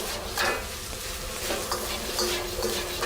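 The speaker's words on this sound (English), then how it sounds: "as the vegetables saute and turn soft and inviting" Vegetables with peas and caramelized onions sautéing in a pan for fried rice, a continuous close sizzle broken by scattered scrapes and clinks of a utensil against the pan.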